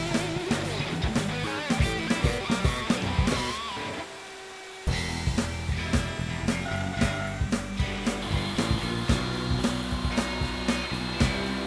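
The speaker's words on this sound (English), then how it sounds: "I'm going to again use my horizontal mortiser for the mortises in the feet and the top frame." A horizontal mortiser cuts mortises in wood for the feet and top frame of a computer monitor stand, a loud, continuous grinding whine with repeated rhythmic plunges, briefly pausing before resuming at full volume.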